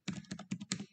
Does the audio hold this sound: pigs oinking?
no